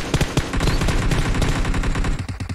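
Bursts of automatic gunfire from the PC battle royale game PUBG, rapid loud repeated shots filling the whole stretch with no talk over them.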